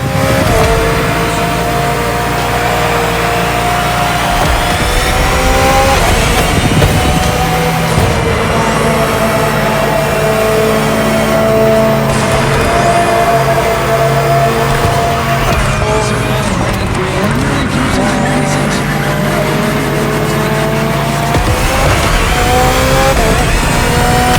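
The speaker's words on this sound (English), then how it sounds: "Finally, the BMW M Hybrid V8. What a beast." A 2023 BMW M Hybrid V8 endurance race car in The Crew Motorfest game revs loud and close, its engine rising and falling through gear changes without a break and with no talking.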